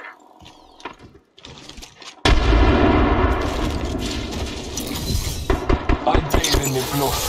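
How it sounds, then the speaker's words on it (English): A frag grenade detonates in the shooter game Apex Legends, a sudden loud blast followed by sustained crackling gunfire and impacts, with a quieter stretch of game sounds before it. "Throwing frag."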